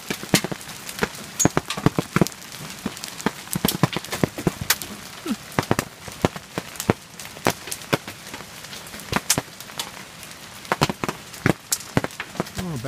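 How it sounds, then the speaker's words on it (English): Pea-sized hail falls on a campground near the MacLeod River at Cadomin, loud sharp irregular clicks and taps landing close by against steady background hiss, with no voices. "Look at all the hail."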